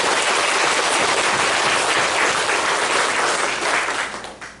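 A church congregation claps in celebration of a blessing ceremony, with steady, loud, dense applause that tapers off at the close.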